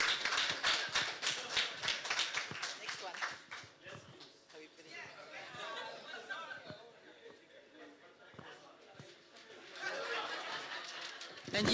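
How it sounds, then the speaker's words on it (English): Audience at a finance leadership forum applauding a participant, steady clapping at the start that gives way to chatter and laughter, then swells again into clapping near the end. "Round of applause for Stanley."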